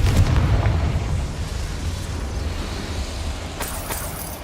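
A Confringo spell explodes in the video game Hogwarts Legacy, giving a loud, close, booming blast that rumbles and slowly fades, followed by a faint crackle near the end.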